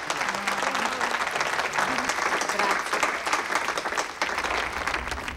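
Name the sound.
audience applause welcoming the mayor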